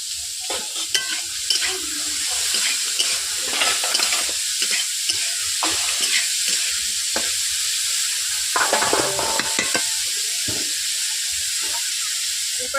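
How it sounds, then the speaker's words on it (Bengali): Raw peas frying in oil with salt for vegetable fried rice, a strong, constant hiss and sizzle with repeated spatula scrapes and taps as the pan is stirred, close and loud, no talking. "কাঁচা মটর দিয়ে দিচ্ছি, একই সঙ্গে তেলে আমি ভেজে নিচ্ছি।"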